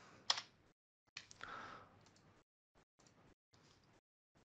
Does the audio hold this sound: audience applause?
no